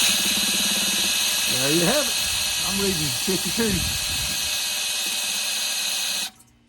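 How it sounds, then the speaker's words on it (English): A steady high-pitched whine from a running power drill spinning an engine's oil pump fills the clip while someone talks briefly over it; the drill cuts off abruptly at the end. "I'm gonna spin the engine over, the oil pump over with the drill"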